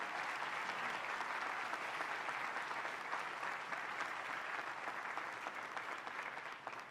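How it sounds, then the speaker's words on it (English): Large audience at a university undergraduate commencement ceremony applauds continuously, a broad, even roar of clapping heard from a distance that tapers slightly toward the end. "Let's give a round of applause to all of the individuals who helped you get to this point"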